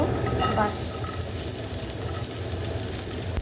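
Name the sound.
butter added to hot oil after frying chicken, sizzling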